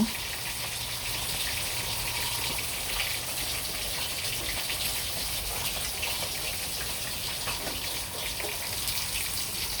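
Steady rain falling outdoors in a Bangladeshi village, a continuous broadband hiss of drops and gushing water that stays even and fairly faint throughout, with no voices.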